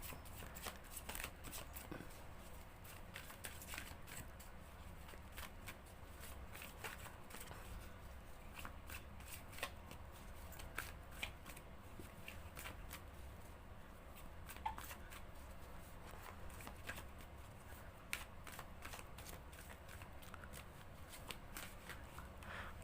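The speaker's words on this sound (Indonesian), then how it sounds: "menshuffle kartunya seperti ini" Tarot cards being shuffled by hand, a steady stream of soft riffling and papery slaps that carries on without a break for over twenty seconds, close and fairly quiet, with no voice over it.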